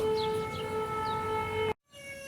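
An air raid siren wails in a loud, sustained tone with layered pitches, then cuts off suddenly, leaving only a faint hum, with no speech.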